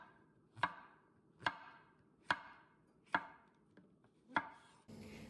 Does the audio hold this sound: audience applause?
no